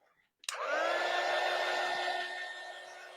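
A hair dryer switches on abruptly and blows steadily up close, drying a fall tiered tray craft project with a constant airy roar and a high whine.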